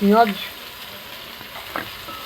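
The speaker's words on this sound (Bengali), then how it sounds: "এবার দেওয়া হচ্ছে পেঁয়াজ কুচনো" Chopped onions hit hot oil in a pan with garlic paste and five-spice seeds, a brief tonal clatter followed by a soft, steady sizzle and a quiet stir, close and low.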